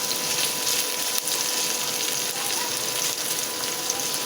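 Onion and garlic frying in a pan for mussel adobo, a continuous close hiss and crackle of sizzling at an even level throughout.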